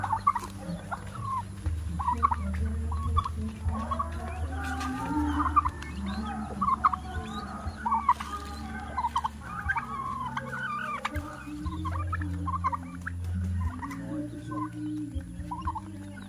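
Two-month-old turkeys raised on a rural Philippine farm gobble again and again in fast, warbling bursts, close and fairly loud over a low steady hum, with occasional clucks mixed in.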